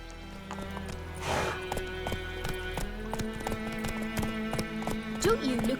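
A horse clip-clops along a path in The Witcher 3 video game, steady hoofbeats under a male character's speech, with a brief whinny and background music.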